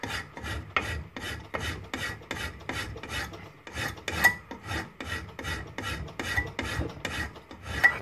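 Steady back-and-forth sharpening strokes on a double bevel Tusker Concorde blade, about sixteen rasping passes at an even rhythm, close and alone.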